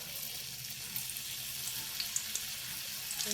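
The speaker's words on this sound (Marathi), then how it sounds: "ते एक एक करून सोडते मी, जेणेकरून ते व्यवस्थित तळले गेले पाहिजे" Modak fry in hot oil with a soft continuous sizzle, quiet and steady, broken by a few small pops as pieces go in one at a time.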